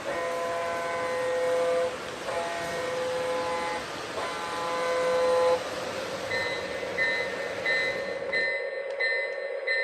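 A model Santa Fe diesel-electric train hums along with steady tonal whine and horn-like tones, shifting pitch as it runs; a mechanical rumble stays underneath.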